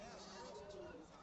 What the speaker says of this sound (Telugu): ఈరోజు మేకలు విపరీతంగా ఉన్నాయి, చాలా అంటే చాలా.